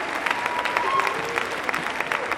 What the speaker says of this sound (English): Of course, only the mothers are clapping,